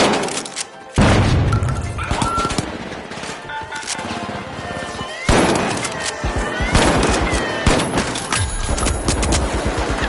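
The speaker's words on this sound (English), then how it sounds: "Tossing a frag." Frag grenade blasts and gunfire in The Finals, a sudden heavy boom followed by a rattling fusillade, then a second loud burst with crackling debris and continuing shots, all close and dense.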